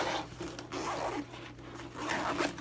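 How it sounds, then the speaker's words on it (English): Zipper being pulled along a pocket on a Nikon D5600 camera case, a few close rasping strokes in quick succession with brief pauses between pulls. "And another zippered pocket on the other side for another accessory."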